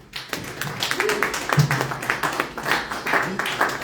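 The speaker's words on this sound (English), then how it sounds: "If that applause was for you" An audience at a meet-and-greet event claps in a brisk, patchy round of applause, moderately close, with a voice speaking over the clapping.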